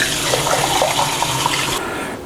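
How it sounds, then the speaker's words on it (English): Water pouring into a pot of chicken green curry, a loud, continuous splashing rush close by that cuts off near the end. "we'll get some water to go in here"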